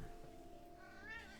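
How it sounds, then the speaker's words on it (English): A pet cat gives a single drawn-out meow, fairly faint and indoors, over a steady low background hum. "So that's the cat meowing."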